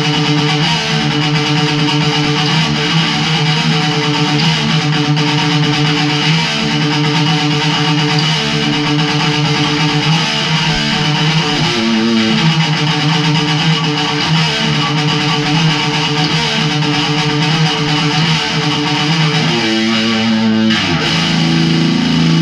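Heavily distorted Ibanez RG1527 electric guitar on the bridge pickup, distortion cranked high, plays sustained, saturated chords and riffs at steady loudness throughout, alone with no talking.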